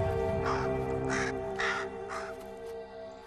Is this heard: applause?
no